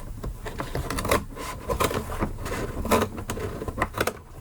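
Scissors snip through paper in a series of sharp, irregular clicks and crunches, close by and moderately quiet.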